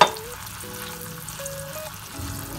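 Kebabs frying in hot oil over a low flame, a steady soft sizzle and gentle bubbling that carries on alone at close range.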